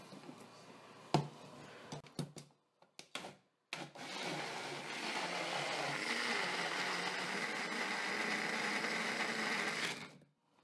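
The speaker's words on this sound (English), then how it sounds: "let's go ahead and blend this up and go from there" A Baby Bullet blender blending eggs and cream cheese: a few faint clicks and clatters of the cup being fitted, then a steady motor whir that runs for about six seconds before cutting off.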